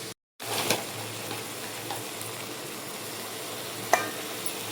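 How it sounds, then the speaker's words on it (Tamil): Crab sizzles steadily in a pan with onion, tomato and turmeric, a continuous loud fry with a few soft stirring clicks and pops, no voices. "மஞ்சத்தூள் நல்லா வதங்கினதுக்கப்புறமா நம்ம அதை வந்து நண்டு சேர்த்துக்கலாம்."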